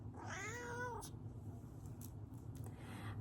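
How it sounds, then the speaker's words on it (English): A house cat gives a single short meow at the start, rising and falling in pitch, faint against a steady background hum, followed by a few soft clicks and no talk. "But look at my cat."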